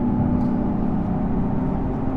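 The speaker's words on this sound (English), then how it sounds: "You get a lot of road noise from the tyres, so it's quite hard to hear anything over that." Steady road roar from R888 tyres mixed with exhaust drone inside a Mitsubishi Evo V or VI cruising, a constant loud hum with no talking.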